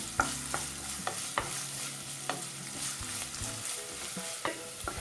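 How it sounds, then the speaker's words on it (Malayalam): Garlic and ginger fry in a pan for egg chilli, a steady soft sizzle broken by repeated scraping stirs and light clinks of a spoon against the pan, close by, with no talking. "ഈ വെളുത്തുള്ളി ഇഞ്ചി ഒന്ന് നന്നായിട്ടൊന്ന് മൂപ്പിച്ചെടുക്കാം"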